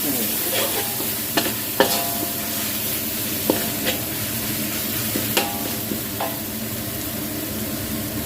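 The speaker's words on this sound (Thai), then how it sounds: "ตอนนี้ก็ผัด พริกให้หอมก่อนค่ะ" Chillies stir-fry in a hot pan, a constant close sizzle punctuated by sharp metallic scrapes and taps of a spatula every second or two, with no talking.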